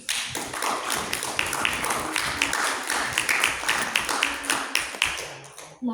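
An audience applauds at a school debate round, sustained clapping of many hands at moderate loudness for about six seconds before it fades out.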